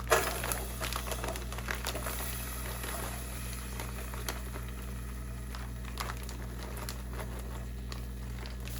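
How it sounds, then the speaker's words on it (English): Mirepoix vegetables cooking in organic sunflower oil for soup joumou give a soft, steady sizzle and patter with scattered small crackles over a constant low stove hum. "just toss it in the oil and let it cook down"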